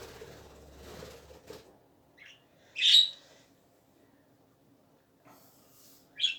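A pet budgerigar gives a few short, bright chirps spaced several seconds apart, with soft talking and quiet rustling early on.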